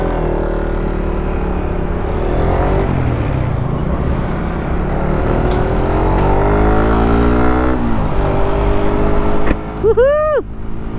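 Suzuki Raider R150 Fi underbone motorcycle engine heard while riding, a loud steady drone with shifting pitch, heavy wind rumble, and a rising whine near the end.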